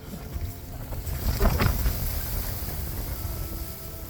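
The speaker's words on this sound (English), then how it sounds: "It is also quite windy today" Steady wind rushes and buffets the microphone outdoors, a low continuous roar with a brief stronger gust in the middle.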